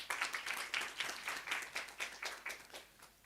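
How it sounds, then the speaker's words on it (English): An audience at an international conference roundtable claps, a faint, steady patter of applause with evenly spaced bursts throughout. "A big applause."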